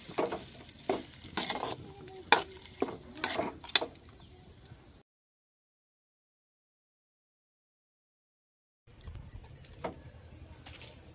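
Greens being stirred in a pan of sizzling tempering oil, with scraping and clattering strokes over a soft frying hiss, then a stretch of silence and more quiet stirring.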